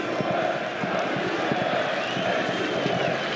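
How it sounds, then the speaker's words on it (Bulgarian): Football stadium crowd at a Botev Plovdiv versus Levski Sofia match, a dense steady roar of fans with rhythmic clapping and chanting running throughout, loud and continuous. "Отборните аплодисменти."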